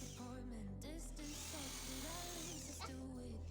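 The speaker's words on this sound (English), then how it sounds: "drill some pilot holes" An electric drill runs with a steady, faint whine while boring pilot holes into a wall for floating shelf screws and wall plugs. The drone is continuous and quiet in a small indoor space.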